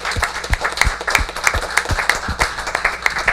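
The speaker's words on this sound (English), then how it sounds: "I really want to give the coaches a big round of applause." A round of applause for the coaches at a township council meeting, a modest group clapping in a fairly even, brisk rhythm, close and clear.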